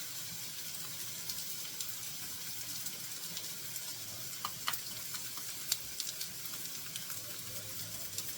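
Frozen and dehydrated potatoes frying in oil as hashbrowns, giving a steady, faint sizzle throughout with occasional small pops and crackles, no voices over it.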